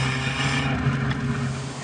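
Abarth 595 Competizione with its small 1.4 litre engine running steadily, a continuous low drone with a strong engine tone and faint rise, heard briefly and up close without talk.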